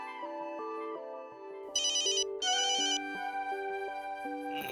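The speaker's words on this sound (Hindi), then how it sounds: "अरे माँ का फोन है।" A melodic phone ringtone plays a repeating chime pattern, joined midway by a bright trilling bell-like ring, loud and close with no talking.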